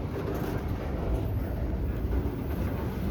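A KCS manifest and intermodal freight train passes a road crossing while slowing, a steady, dense rumble and rolling rail noise close by with no pauses.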